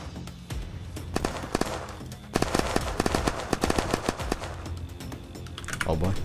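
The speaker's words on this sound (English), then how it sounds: "he's shooting" Rapid gunfire crackles in repeated bursts in the survival game Unturned, sharp shots clustering more densely in the middle while people talk over it.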